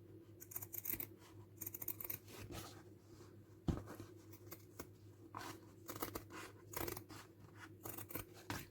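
Repeated snips of scissors cutting through material, a steady series of close, crisp cuts with soft rustling between them and no talking.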